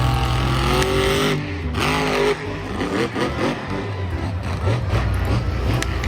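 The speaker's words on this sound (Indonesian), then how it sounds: "Mobil monster truk" Toy monster truck engine and tire sound effect, a loud, continuous revving roar with rising and falling whines and tire squeal that runs throughout.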